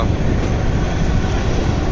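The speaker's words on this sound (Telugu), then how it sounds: "చూడండి ట్రైన్ ఎలా కర్వ్గా వెళ్తుందో" The Kalka-Shimla toy train rolls around a curve on its narrow-gauge mountain line, giving a steady, loud rumble with wind noise over it the whole time and no voices.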